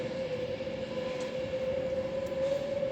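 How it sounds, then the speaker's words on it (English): A freight train passes through the station at Nuneaton as a continuous, loud rumbling roar with a sustained tonal hum, heard alone at close range. "Looks like we've got a freight coming through."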